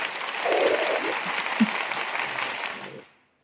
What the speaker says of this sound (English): this applause is for both you and Sun Goddess